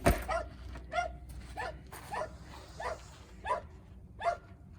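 A dog named Buster barks repeatedly at a deer, about eight sharp barks spaced roughly half a second apart at a moderate distance, in an otherwise quiet outdoor setting.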